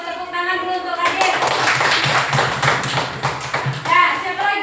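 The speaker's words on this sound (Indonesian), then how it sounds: "Bagus, tepuk tangan dulu untuk adik." Children clapping their hands together in a classroom, a fairly loud run of dense, overlapping claps lasting a few seconds, with a teacher's voice before and after.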